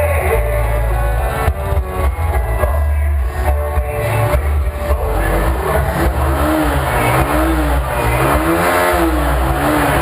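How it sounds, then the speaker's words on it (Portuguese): Red Honda CG 125 Cargo motorcycle engine revved repeatedly, loud close single-cylinder rasp rising and falling in pitch in several swells, recorded with an external microphone and no talk over it. "Eu acelero a moto mais ou menos assim, ó."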